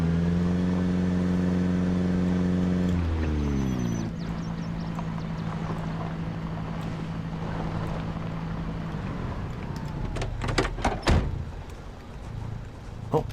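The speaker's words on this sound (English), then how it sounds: "Oh, what am I left the engine running for?" A car engine idles steadily in Project Zomboid, a low harmonic drone that drops in pitch and thins out partway through, followed by scattered clunks and knocks near the end.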